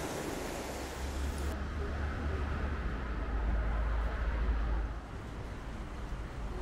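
Steady roar of Mediterranean sea surf washing on the shore along a promenade in southern France, with wind buffeting the microphone, easing slightly near the end.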